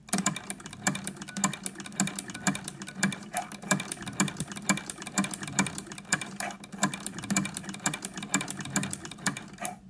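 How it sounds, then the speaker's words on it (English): A sewing machine with a ruffler attachment runs a straight stitch, producing a fast, steady mechanical clatter of rapid needle strokes that continues through the whole stretch. "I'm just going to do some straight stitching"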